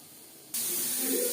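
A pressure cooker whistles while cooking mutton biryani, a faint hush giving way to a sudden steady hissing jet of steam that stays loud and sustained to the end.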